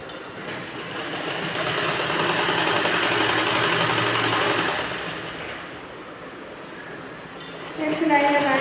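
A close sewing machine hums in a long continuous run as it stitches a folded belt strip for a blouse, then slows and stops; someone speaks over the stitching.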